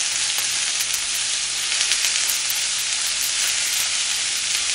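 Radish with onion, green onion and garlic sizzles in a frying pan, a dense, steady crackling hiss that holds close and loud throughout with no voices.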